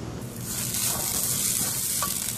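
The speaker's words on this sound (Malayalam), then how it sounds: "ചിക്കൻ വേവുന്ന സമയം കൊണ്ട് നമുക്ക് മറ്റൊരടുപ്പിൽ" A close, steady dry sizzling hiss of coconut roasting in a hot pan for chicken curry, with a faint scrape of stirring.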